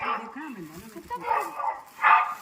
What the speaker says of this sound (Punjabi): ਕੁੱਤਾ